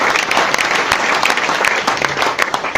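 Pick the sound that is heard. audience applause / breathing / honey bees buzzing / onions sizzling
audience applause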